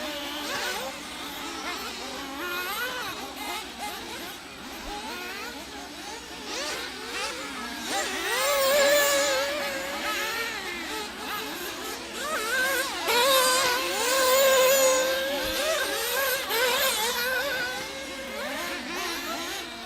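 Intermediate-class nitro RC race cars lap a track in a Protek Super Cup qualifier at Oakland Mills, PA, their small engines buzzing and revving continuously, swelling and fading as the grid passes, with no talk over them.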